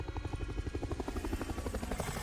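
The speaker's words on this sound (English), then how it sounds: "Was that the extraction point helicopter too?" In the video game Resident Evil 4 Remake, an extraction helicopter thuds overhead, its rotor chopping in a steady, rapid rhythm that stays loud and close throughout.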